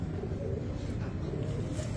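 A pure high flyer pigeon coos softly, nearly buried in steady low rumbling background noise.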